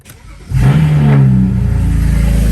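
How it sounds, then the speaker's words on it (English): A straight-piped BMW E92 with an N54 engine cranks and fires up at close range, then settles into a loud, raspy, rumbling idle with a deep burbling exhaust. "The sound of a straight piped N54."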